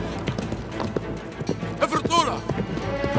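A horse's hooves clip-clop in a steady rhythm during a riding lesson, moderately close, with voices talking over them.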